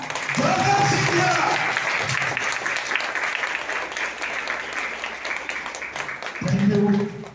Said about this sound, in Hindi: अपने एक बार जोरदार तालियां, जोरदार सीटियां।